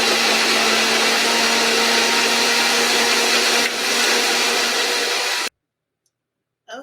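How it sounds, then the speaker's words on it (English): A kitchen blender whirs steadily while Thai coconut corn chowder is being made, a loud, even, close drone that runs for about five seconds and then cuts off abruptly. "I'm going to start this blender"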